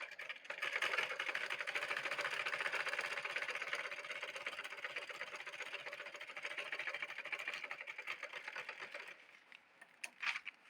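A sewing machine stitches paper and cloth together for a yoke frock, giving a steady fast mechanical whirring rattle for about nine seconds, then stopping, with a faint clunk near the end.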